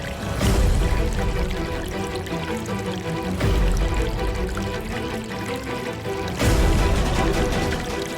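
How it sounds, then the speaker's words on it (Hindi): Water gushes in a loud, steady rush from a burst pipe, with surging bursts at intervals over a continuous splashing stream close by. "ये पानी की पाइप कहाँ से फट गई?"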